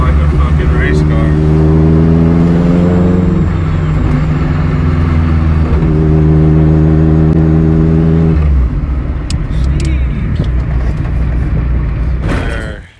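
A car engine runs loud and close, rising in repeated revving pulls before settling back to a rough idle, with people talking over it.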